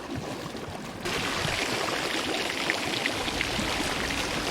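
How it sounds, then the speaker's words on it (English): Water gushes and trickles through a hole in a wooden ship's hull in Sea of Thieves, a steady rushing splash that swells after the first second and keeps going without a break. "So here's what it sounds like when you have a hole in the boat."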